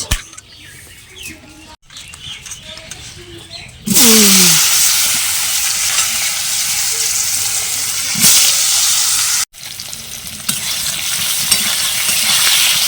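Potato, plantain and fish fry in a pan of hot oil. A quiet stretch gives way to a loud, steady broadband sizzle that keeps going with a few short breaks.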